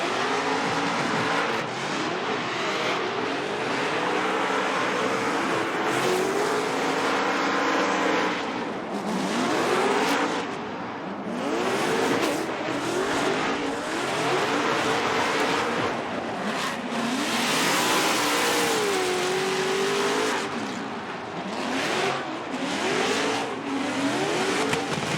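Loud, continuous engine roar of a competition car on a championship run, rising and falling as it revs and accelerates, with tire squeal and passing sweeps, heard steadily with no talk.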